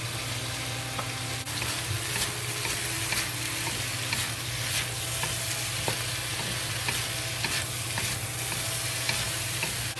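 Shredded potato with green pepper is stir-fried in a wok, a continuous loud sizzle with scraping stirs and occasional clinks of a spatula, with no talking.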